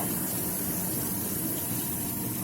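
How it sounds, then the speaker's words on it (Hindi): Bay leaf, green cardamom and cinnamon frying in hot oil, a steady, even sizzle with no pauses that stays moderately loud throughout. "और उसमें मैं डाल दूंगी एक तेज पत्ता, छोटी इलायची और दालचीनी, और फिर सारी चीजों को मुझे अच्छी तरह से फ्राई कर लेनी है"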